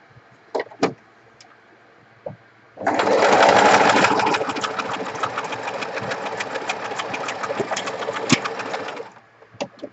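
A sewing machine runs a zigzag stitch down the centre of a fabric pocket piece. A few light clicks come first, then a steady, loud, close whirring run lasts about six seconds before stopping.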